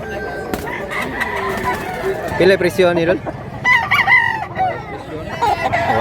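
A one-year-old Talisayon gamecock crows loudly and close by, with clucking hens around it, while someone talks over parts of the call.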